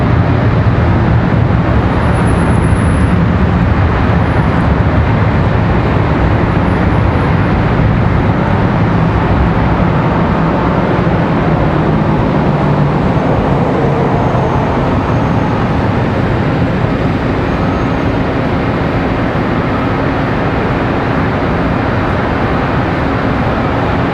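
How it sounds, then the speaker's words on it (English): A Republic Airways Embraer E175 LR jet lands on runway 36 Center at Charlotte Douglas airport, a loud, continuous broadband roar of engines and rushing air that holds steady throughout. "Very smooth touchdown for the E175."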